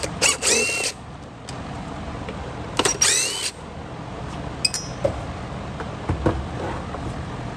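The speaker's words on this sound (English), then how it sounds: "Just going to remove all these here on the front, just so we can take off that part of the case." T25 screws come out of the front case of an Echo PB250 leaf blower in short whirring bursts from a driver. Small metallic clinks and taps are heard between the bursts, with no talk.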